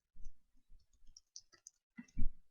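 Sparse clicks of a computer keyboard as a code is typed, a few soft scattered taps followed by a louder pair near the end, close and quiet with no talk.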